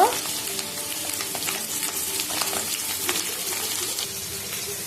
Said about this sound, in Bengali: কড়াই গরম হয়ে গেছে, আমাদের তেল গরম হয়ে গেছে। এবার আমরা আলুগুলো ভেজে নেব।